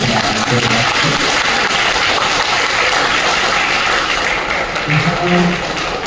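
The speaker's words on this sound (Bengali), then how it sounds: "জোরে করতালির মাধ্যমে আমরা তাকে আমাদের" A hall audience at a Kobi Pronam event at Tamralipto Government Medical College applauds the principal, Dr. Sharmila Mallick. The clapping is dense and steady for about six seconds, with faint voices murmuring underneath.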